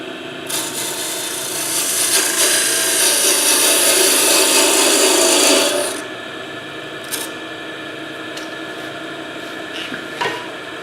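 A wooden Roman canteen is cut off on a lathe while it turns: a loud, steady rasping scrape that lasts about six seconds, then stops and leaves the motor hum with a few brief scratches.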